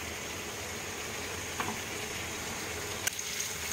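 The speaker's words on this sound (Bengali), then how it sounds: "যতক্ষণ না ঝিঙের জলটা শুকিয়ে যাচ্ছে ততক্ষণ আমি এটাকে ভাজবো" Ridge gourd and prawns frying in oil in a pan, a steady, faint hissing sizzle throughout, with one or two small clinks.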